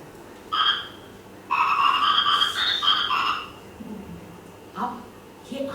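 Children in a classroom imitate a frog's croak during a storytelling workshop, with a few drawn-out voiced croaks and calls between pauses.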